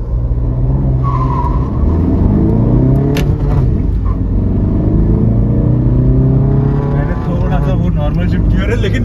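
Tata Nexon with a three-cylinder engine and a Tata Altroz accelerating hard side by side in an informal race, a steady loud engine drone with rising revs heard from inside a car while people talk over it.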